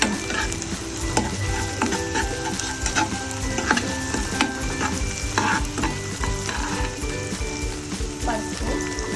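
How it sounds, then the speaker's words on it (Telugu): Ginger garlic paste being stirred into golden-brown fried onions in a pan, with continuous steady sizzling and frying and repeated scraping stirs of a spoon against the pan throughout. "ఆనియన్ కొంచెం గోల్డెన్ బ్రౌన్ అయ్యాక అల్లం వెల్లిగడ్డ పేస్ట్ వేసుకోవాలి."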